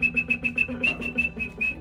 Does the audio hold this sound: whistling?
yes